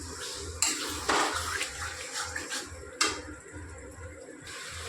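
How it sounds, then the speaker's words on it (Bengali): A spoon scrapes and clinks against a pot while yogurt is stirred into chicken curry, with a few sharp metallic knocks over a steady low pulsing hum, no talk. "দইটা মিশিয়ে আরও ভালো করে নাড়াচাড়া করে নেব"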